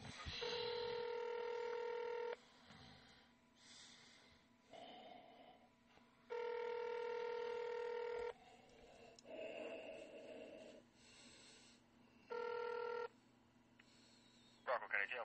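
Telephone keypad tones sound in several long, steady beeps on a sheriff's office phone menu line, separated by gaps with recorded voice prompts and muffled talk.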